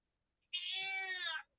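A house cat gives a single drawn-out meow of a little under a second, clear and close, with quiet before and after.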